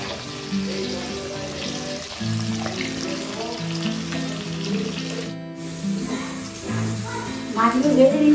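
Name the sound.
frying pabda (butter catfish) fish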